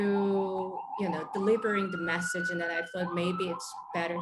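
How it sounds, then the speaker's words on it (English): A siren wails on a New York street, its rising tone steady behind close, continuous conversation that dominates throughout. "Sorry about the siren."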